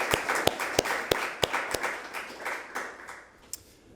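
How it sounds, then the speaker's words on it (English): Audience at an Open Source Leeds meetup claps for the organisers, a short burst of crisp, separate hand claps standing out over a softer spread of applause that fades away by the end. "I'd like everyone just to give the organisers a clap for us"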